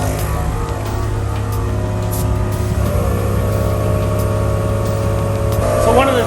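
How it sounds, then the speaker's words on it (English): Two portable tire air compressors, a budget GOBEGE heavy-duty unit and an ARB, run together with a steady motor hum and buzzing harmonic drone that holds continuously at close range throughout. "We're gonna hit start again and then get both compressors going again."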